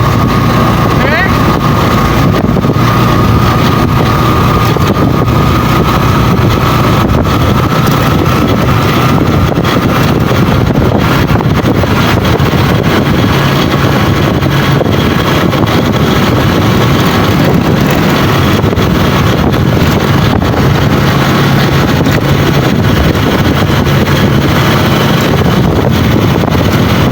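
A motorcycle ridden around Bacolod gives a steady engine drone beneath heavy, continuous wind buffeting on the microphone, with faint voices now and then.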